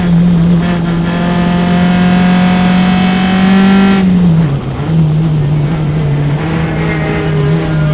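A race car at an SCCA club sprint race on the Mid-Ohio circuit holds a loud, steady engine drone, then the pitch dips briefly as it shifts or lifts, and it settles back into a strong sustained tone up close.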